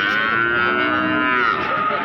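One long, loud moo from a young PO or Limousin heifer at the Pasar Pon Jaken cattle market, close by and sustained through the whole moment.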